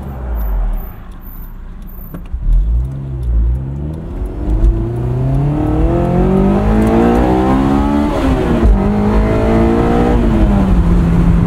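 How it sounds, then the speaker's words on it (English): A 2003 Honda S2000 with an aftermarket UK exhaust revs up from idle, the engine note climbing and falling through several loud rising sweeps, heard close with some faint jangling keys early on. "Love that UK exhaust mod."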